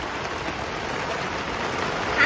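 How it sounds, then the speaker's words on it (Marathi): Heavy rain pours down steadily outdoors beside a kitchen with a wood-fired clay stove, a dense, even hiss of drops hitting surfaces that holds constant throughout. "आता तर लय जोरात पाऊस आलाय मित्रांनो"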